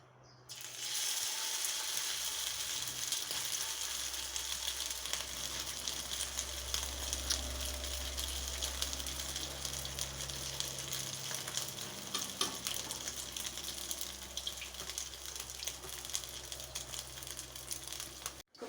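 A shrimp omelette fries in hot oil, giving a continuous dense sizzle that holds steady for well over fifteen seconds with a few brief scraping clicks.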